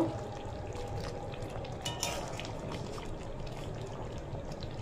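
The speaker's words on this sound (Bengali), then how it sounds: "আস্তে আস্তে হালকাভাবে এটা একটু নাড়িয়ে দেব।" Prawn-stuffed pointed gourd curry is stirred in a pan, with a soft continuous sizzle and a few gentle scraping clinks against the pan, quiet and close.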